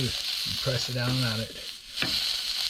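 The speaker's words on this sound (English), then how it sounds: "You can hear the sizzle, the last little sizzle" Fish sausage made from triggerfish sizzles steadily in a pan aboard a sailboat, a continuous close frying hiss beneath someone talking, fading briefly before the sizzle swells again.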